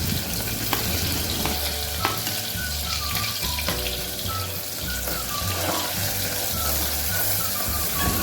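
Finely chopped onions and crushed garlic frying for dal, a dense steady sizzle with occasional spoon taps and stirring, close and fairly loud, with no speech.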